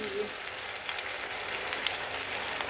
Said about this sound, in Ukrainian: Смажу на олії.